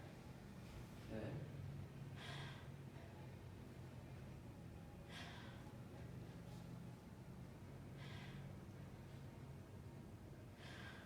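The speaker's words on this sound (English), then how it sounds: "take a big breath through your mouth" During a clinical chest examination, a patient takes deep breaths in through the mouth: several faint, soft breathy rushes spaced a few seconds apart over a quiet room background.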